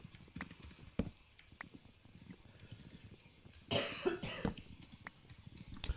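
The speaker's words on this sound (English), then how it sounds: "I've got a really bad cough at the moment" A person with a bad cough gives a couple of short coughs near a mic, over the soft irregular clatter of keyboard typing.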